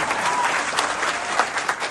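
Crowd clapping at an outdoor political election rally, a steady dense patter of many hands filling two seconds with a few sharper claps standing out near the end.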